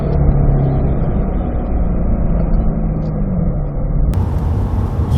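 A 2020 Corvette C8 pulls hard under full throttle, its engine a loud, sustained roar that holds steady, with a sudden bright hiss of wind or tire noise breaking in near the end.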